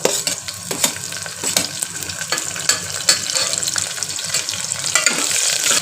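Ginger and green chili frying in hot oil for dal khichdi: a loud, continuous close sizzle with repeated spoon scrapes and stirring clatter throughout.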